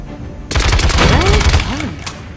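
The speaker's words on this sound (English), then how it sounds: "Your primary weapon is your assault rifle." Assault rifle gunfire from a Paladins tutorial, a loud, continuous burst of rapid shots that starts abruptly and runs for about a second and a half over game effects.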